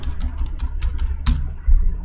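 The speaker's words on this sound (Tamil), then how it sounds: "நெக்ஸ்ட்டு மொபைல் நம்பரில் என்னோட நம்பர் டைப் பண்ணிக்கிறேன்" A mobile number is typed on a computer keyboard while filling in a web form, with irregular, fairly close key taps over a low hum.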